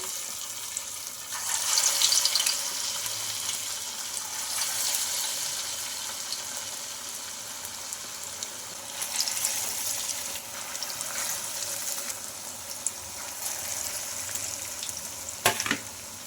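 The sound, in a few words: puffed rice and gram flour vadas deep-frying in oil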